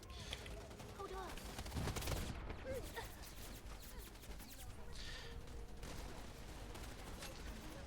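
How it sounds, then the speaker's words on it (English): Assault rifle fire in the shooter Wild Assault rattles in scattered bursts at moderate distance, layered over busy battlefield noise, with a voice talking underneath. "Again, assault rifle."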